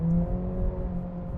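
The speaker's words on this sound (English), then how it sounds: "When I press the accelerator, I'm hearing more of that engine." Engine of a 2025 Acura ADX A-SPEC Advance revving under acceleration, heard from inside the cabin: a steady, fairly loud hum with sustained tonal notes that stays even through the short stretch.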